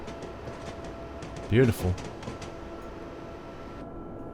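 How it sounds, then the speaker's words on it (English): A quiet train in a train simulator game passing through mountain scenery makes a soft, steady low rumble with a faint hum, while someone briefly speaks over it. "These are very, very quiet trains, aren't they?"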